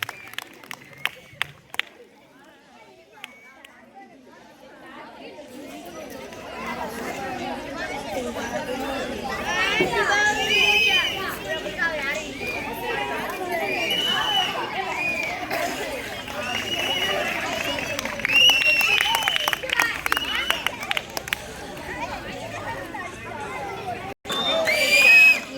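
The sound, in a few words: audience applauding teachers at award ceremony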